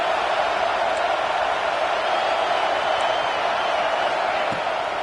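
Football stadium crowd roaring in a steady, dense wash of cheering at halftime's end, constant and fairly loud throughout with no pauses.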